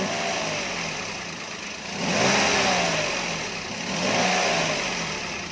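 A Toyota Agya car engine, running normally after a repair for a rough noise, revs up twice, rising and falling in pitch over a steady idle, with no talking.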